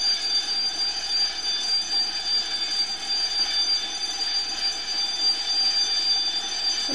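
A fast passenger train rushes past a railway crossing in a loud continuous roar of wheels and rails, with a thin high steady squeal running throughout and no voices.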